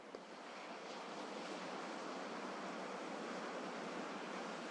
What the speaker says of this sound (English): Perhaps the waves below have taken on a different quality. Now their rhythm and sound might already be different